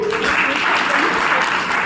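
Dense crowd applause at a Brahma Kumaris health talk, steady and fairly loud throughout, with voices faintly mixed into the clapping.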